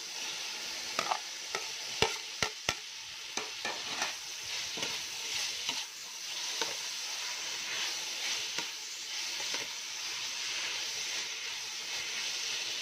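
Pork and turnip sizzle steadily in a hot pan while a utensil scrapes and stirs them in irregular clattering strokes, close and alone with no talk, the frying hiss continuous throughout.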